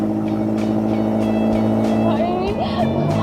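A car driven fast, its engine droning loud and close without pause, with a harsh rising whine toward the end. Voices talk over the engine throughout.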